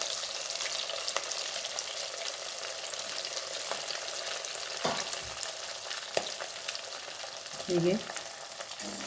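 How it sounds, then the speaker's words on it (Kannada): Cut idli pieces fry in hot oil with a steady, dense sizzle and crackle throughout, broken by a few soft stirring knocks and a brief word spoken near the end. "ಎಣ್ಣೆ ಈಗ ಕಾದಿದೆ. ಈಗ ಇದನ್ನು ಕಟ್ ಮಾಡಿದ ಇಡ್ಲಿಯನ್ನು ಅದಕ್ಕೆ ಹಾಕುವ."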